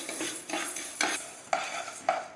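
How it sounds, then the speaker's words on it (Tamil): Whole black gram (urad dal) is dry-roasted in a pan, with a spoon scraping and stirring the dry lentils in repeated close, rhythmic strokes about every half second, and no talking. "லைட்டாக வறுத்துக்கலாம் ரொம்ப வறுத்து வேணாம் சும்மா லைட்டாக வறுத்துக்கலாம்"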